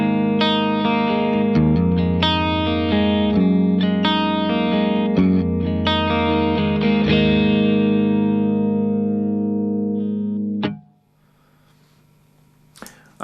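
Distorted electric guitar played through two amplifiers at once rings out in strummed chords with a thick, doubled amplified tone, then stops and fades, leaving a brief buzz at the end.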